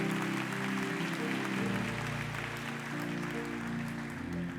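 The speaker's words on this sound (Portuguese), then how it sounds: "Pode aplaudir Jesus por isso." A church congregation applauds during a service, a steady wash of many hands clapping that sounds moderately distant over a sustained low musical drone.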